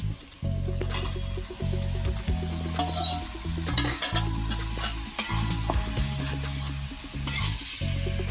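Fried cauliflower and potato pieces tossed into a sizzling spice masala in a pan, a loud steady frying hiss with repeated scraping stirs, heard close and alone over a low steady hum.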